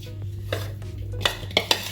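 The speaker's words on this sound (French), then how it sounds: "Et maintenant je mélange le tout, les épices avec mes crevettes" Shrimp mixed with spices in a bowl, a few sharp clinks and scrapes of a utensil against the bowl over a low steady hum, with no talking.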